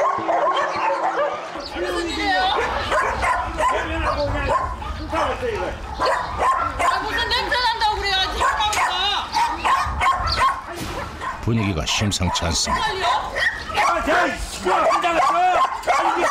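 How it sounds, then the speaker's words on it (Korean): Excited dogs bark, yip and whimper in a cage, roused by a stranger's shouting, a busy, continuous chorus of canine noise mixed under loud, overlapping human talk throughout. "낯선 이의 고함에 흥분한 개들"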